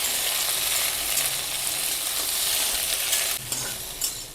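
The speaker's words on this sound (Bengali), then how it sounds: "দিয়ে একটু ভেজে নেবে ঢ্যাঁড়স" Okra fries in mustard oil with a dense, continuous sizzle, stirred in the pan, with a couple of sharper scrapes and clatters near the end as the sizzle eases slightly.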